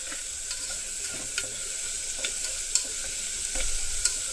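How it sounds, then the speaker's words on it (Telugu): Onions frying in a pan with steady sizzling, punctuated by repeated sharp scrapes and clinks of stirring at irregular intervals, close and fairly loud, with no talk. "నేను ఉల్లిపాయలు వేశాను ఉల్లిపాయలు బాగా వేగిన తర్వాత మనం మిగతా పదార్థాలన్నీ వేసుకుందాం"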